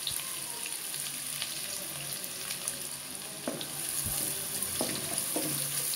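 Half a cup of chopped onion sizzles and fries in hot oil in a pan for chicken pulao, a steady crackling hiss with occasional stirring clinks and scrapes throughout.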